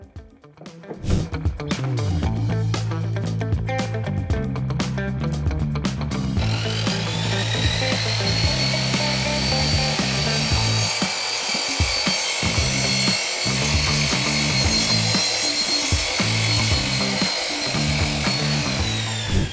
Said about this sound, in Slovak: zrežem našu dosku na správnu dĺžku